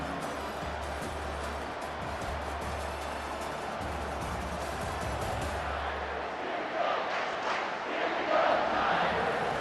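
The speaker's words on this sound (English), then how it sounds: "Decibels rising as the crowd gets behind this defense on 3rd down." Stadium crowd noise in the College Football 25 video game, Alabama at LSU, a broad steady roar that swells and grows louder toward the end as fans rally behind the defense on third down.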